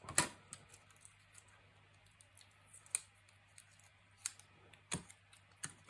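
Scissors snip through paper while crafting a scrapbook album, giving a handful of scattered sharp, close cuts separated by quiet pauses, with a faint steady hum in the background and no talking.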